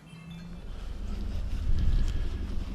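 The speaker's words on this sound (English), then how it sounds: "today it is blowing about 27 miles an hour" Strong wind of about 27 mph roars and buffets against the microphone while riding a Honda Rebel 300 fitted with a Hellfire windshield, building louder toward the middle and staying steady with no talk.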